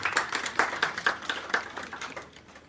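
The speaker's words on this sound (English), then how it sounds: "A big round of applause for Mr." A small group claps for WWE wrestler Kofi Kingston on his return to Ghana, the distinct individual claps audible in an uneven rhythm that gradually fades.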